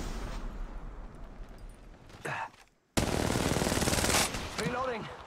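Automatic weapon fire in Apex Legends Mobile, loud rapid bursts of shots broken by a brief silent gap, then a sustained close volley and a few tonal in-game effects.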